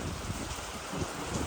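Heavy rain falls over a home garden during a stormy spell, a steady soft hiss of drops spread evenly throughout and fairly faint, with no voices.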